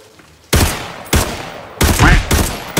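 Bursts of gunfire ring out in a shooter video game, with four loud, sharp shots or short volleys spaced about half a second apart.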